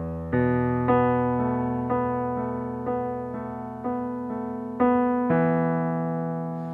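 Piano plays a slow sequence of sustained chords, each struck cleanly and left to ring and decay, about eight chords evenly spaced, close and clear with no voices.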